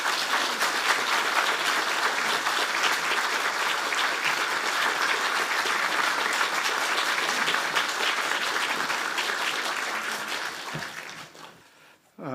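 A church congregation at a revival meeting claps steadily to welcome the pastor, a dense and sustained applause that fades out near the end.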